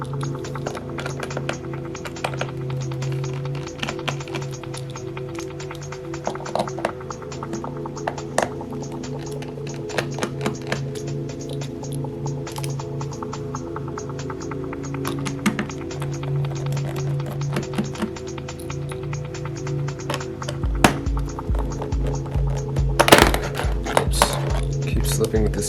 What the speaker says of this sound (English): swap out this bit for a T9 Torx bit, and there's 5 T9 screws we need to remove